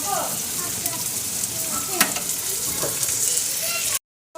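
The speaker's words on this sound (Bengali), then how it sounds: "পেঁয়াজটা ভালো করে লাল করে ভেজে আদা রসুন পেঁয়াজ টমেটো" Onion frying with ginger, garlic and tomato in a home kitchen pan, a steady dense sizzle with a few clinks of a stirring spoon, close and fairly loud, cutting off abruptly near the end.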